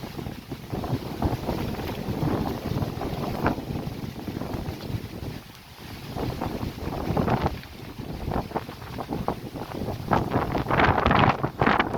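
Strong windstorm in a new park near Kosmonavtov metro in Tashkent during rain, loud gusts buffeting the microphone in continuous roaring surges with no speech.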